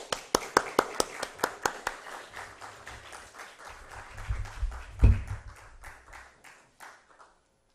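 A church seminar audience welcomes a pastor with applause: a few sharp, close claps at first, then a modest wave of clapping that swells, peaks and trails off into scattered claps.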